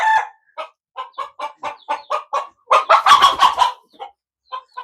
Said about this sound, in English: We have to work with the roosters in this country.